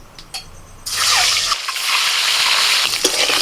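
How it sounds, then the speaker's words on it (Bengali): Beaten eggs poured into hot oil seasoned with a little salt and turmeric, setting off a loud, sudden burst of sizzling that holds steady after an opening clink and faint stirring. "কড়া তেলের মধ্যে অল্প একটুখানি লবণ আর হলুদ দিয়ে দিয়েছি এবার ডিমগুলো ছেড়ে দিচ্ছি"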